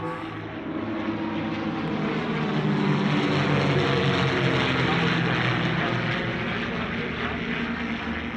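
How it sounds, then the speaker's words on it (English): A New Zealand elementary flying trainer, a propeller aircraft, drones overhead at an airshow, its steady engine and prop roar swelling slightly as it passes, loud and continuous with no pauses. "That is an elementary flying trainer from New Zealand"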